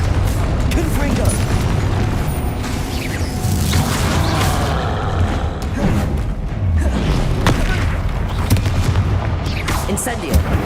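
Repeated booming fire-blast spell impacts from Hogwarts Legacy, loud and dense, with several thudding bursts spread across the stretch over continuous game effects and some voice.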